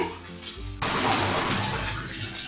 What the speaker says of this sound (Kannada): ಈ ಮಿಕ್ಸರ್ ಜಾರ್ಗೆ ಇನ್ನೊಂದು ಸ್ವಲ್ಪ ನೀರು ಹಾಕೊಳ್ತೀನಿ.